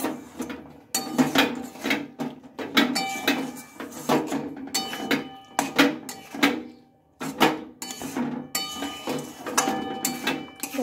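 Drumstick pickle is mixed with fried spices in a bowl, giving repeated close scraping and clinking strokes in an uneven rhythm with short pauses.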